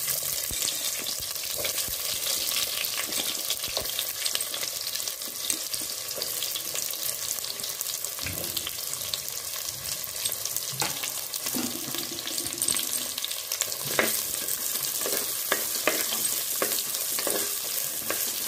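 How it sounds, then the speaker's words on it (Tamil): Onions sautéing in a pan while chicken leg piece gravy is being made, a steady close sizzle with occasional stirring clatter and some running-water sounds, no talk. "வெங்காயம் நல்லா வதங்கட்டும்"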